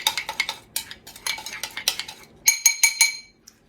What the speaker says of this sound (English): Now, we're going to mix this up real good.